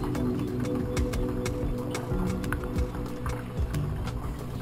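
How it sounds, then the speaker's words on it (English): Water draining from a household water heater tank through a hose, a continuous close trickling and gurgling flow with small splashes and drips. "Next thing you do is you get a hose to the outlet and we drain the tank."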